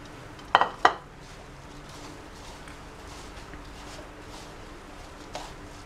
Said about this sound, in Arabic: هقلب كده الكنافه بتاعتي كويس في كل السمنه